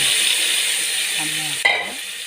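Ground tomato added to a frying pan, producing a steady close hiss of sizzling, with a sudden louder burst as the tomato hits the hot oil.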